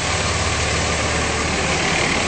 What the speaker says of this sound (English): you can hear it running very smoothly